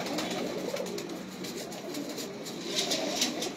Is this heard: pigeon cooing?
yes